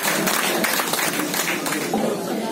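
Applause from an audience welcoming a poet from Fatehpur at a poetry gathering, a dense steady wash of many hands clapping throughout, with voices faintly mixed in.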